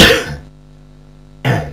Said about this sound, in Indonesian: Seperti biasa, batuk mengganggu.